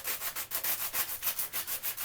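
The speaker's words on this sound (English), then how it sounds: "I'm just going to use a regular sanding block." A small metal can is wet-sanded with a regular sanding block in even back-and-forth strokes, about a dozen rhythmic rasps, close and steady with no voice.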